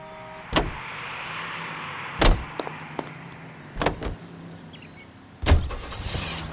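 A car in the video game L.A. Noire, heard as several sharp thuds and clunks over a low steady engine-like rumble, with a brief rising whir near the start.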